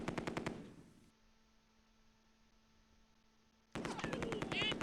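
Rapid machine-gun bursts from the World War II strategy game Close Combat II open and close the moment, loud and crackling, with a quiet humming lull between them.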